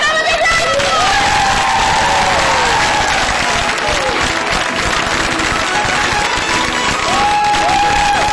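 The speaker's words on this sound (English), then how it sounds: "give them a big round of applause!" An audience at an improv comedy show breaks into loud, sustained applause with cheering and a few whoops, a dense wash of clapping filling the room while a voice carries over it.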